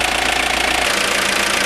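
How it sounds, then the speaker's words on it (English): A 1995 Mazda Bongo Friendee engine runs steadily after a cylinder head installation, a loud, continuous idle with a rhythmic knocking pulse throughout and no voices. "The engine's been running for half an hour straight."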